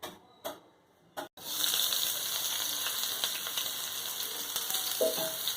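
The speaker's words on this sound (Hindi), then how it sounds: "अभी हम ऑनियन डाल देंगे।" Onions dropped into hot oil for a Rohu fish mustard gravy, giving a brief clatter and then a steady, bright sizzle that continues evenly with faint stirring.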